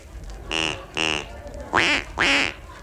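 A duck quacks four times on a British comedy radio show, in two close pairs of nasal, drawn-out calls, loud and clear with short pauses between them.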